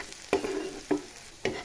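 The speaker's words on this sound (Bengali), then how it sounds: "পেঁয়াজটা প্রায় লাল লাল একটু ভাজা হয়ে গেছে।" Onions fry in mustard oil in a close, continuous sizzle. Three distinct spatula scrapes are spaced about half a second apart. No one talks.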